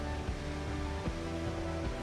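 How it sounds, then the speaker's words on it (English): Upper Falls on the McCloud River, a waterfall about 30 feet tall with good flow, pours in a steady broadband roar, constant and fairly close with no voices. "Upper Falls is about 30 feet tall, and it usually has a pretty good amount of flow when I'm here."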